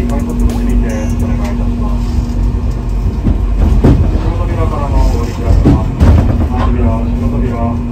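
A Hankai tram pulls into the Tennoji-ekimae terminus in Osaka. The steady rumble of the rolling car is broken by several louder rail clacks and wheel squeals near the end, under a faint background voice.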